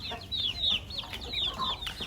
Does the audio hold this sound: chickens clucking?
yes